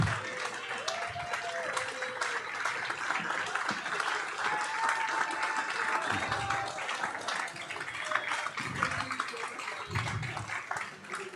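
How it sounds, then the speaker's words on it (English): Audience applause at the opening ceremony of the 2024 GovCup sailing event at Balboa Yacht Club; sustained, dense clapping with some cheering and voices in the room. "Wild applause."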